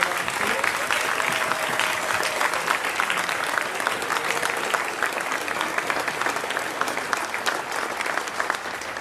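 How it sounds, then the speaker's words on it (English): Sustained applause from an audience honouring students at a school event: a thick, continuous roar of many hands clapping, loud and even for around nine seconds. "let's give one more big round of applause for all of our students"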